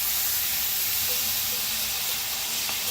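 Spices roasting in a hot pan while cooking a vegetable dish, a steady, loud, continuous sizzle with a hissing texture throughout.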